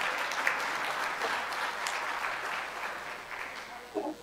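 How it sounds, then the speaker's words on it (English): Warm, continuous applause from Rotary Club members welcoming visiting Rotarians and guests at a club meeting, moderately distant and steady for several seconds before tapering. "will all visiting Rotarians and guests please rise, and we'll give everybody a round of applause"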